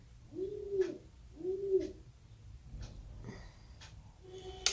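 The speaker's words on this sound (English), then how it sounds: "It's the pigeons in the background." Pigeons cooing from a window perch, several soft rounded coos repeating in a steady rhythm, close and moderately loud against a quiet room.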